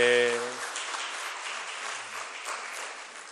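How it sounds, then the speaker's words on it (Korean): A church congregation applauds during an anniversary Sunday service, a broad steady wash of clapping that follows a brief spoken voice and then gradually softens. "우리 큰 박수로 감사합니다. 환영하겠습니다."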